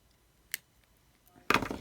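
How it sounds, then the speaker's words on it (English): Scissors snip excess bracelet cord close by: a faint short click, then a sharper, louder cut at the end, alone in a quiet room. "then snip that little extra off"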